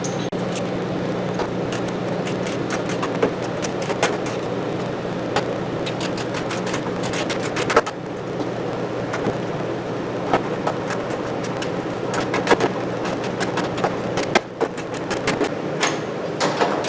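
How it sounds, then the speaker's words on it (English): Ratcheting clicks and metallic taps from 13 mm nuts being cinched down on a third-generation car's rear bumper, a steady background hum running underneath with scattered sharp ticks throughout, no talking. "I'll start by cinching those down, 13 millimeter"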